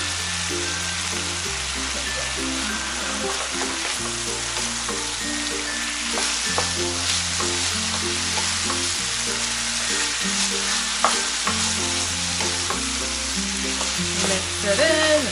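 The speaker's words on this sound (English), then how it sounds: "Now when the garlic is cooking and the meat is going to absorb all that garlicky goodness" Garlic and pork stir-fry in a hot pan for Thai chili pork, a loud, steady sizzle with scraping stirs over background music, close and continuous.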